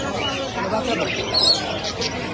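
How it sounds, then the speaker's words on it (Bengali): Diamond doves coo softly amid the chatter and bustle of a large bird market, their calls faint and partly buried under crowd babble and nearby voices. "ডায়মন্ড ঘুঘু, এগুলোর বলে ডায়মন্ড ঘুঘু"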